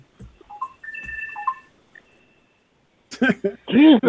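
A smartphone on a faulty charger beeps erratically in a few short tonal blips and chirps, loud and close, followed by a person talking.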